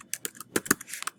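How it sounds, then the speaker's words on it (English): Quick clicking keystrokes on a computer keyboard while entering search terms, a dozen or so crisp, uneven taps close to the mic with no voices. "Do you see as I'm typing here"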